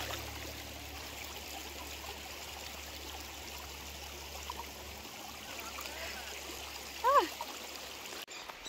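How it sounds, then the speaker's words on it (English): A river in Big Sur on the trail to Sykes Hot Springs rushes steadily over rocks at a wading crossing, a continuous broad wash of flowing water heard close by, with a brief louder splash near the end. "The river can become impassable during winter and spring due to high, swift water."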